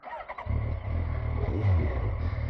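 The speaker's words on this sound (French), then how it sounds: "J'adore, je m'en lasse pas de ce 4 cylindres." A 2012 Yamaha FZ8 50th-anniversary four-cylinder motorcycle fires up outdoors on gravel, its engine catching abruptly and then revving in a loud, close, sustained roar.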